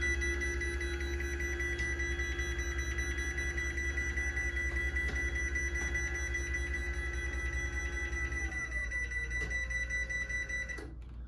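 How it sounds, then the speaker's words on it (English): A Chamberlain LW5000EV garage door opener's steady motor drone runs throughout as the door closes, with faint, regular beeps, until the drive winds down and stops near the end. "And it will beep the whole way down."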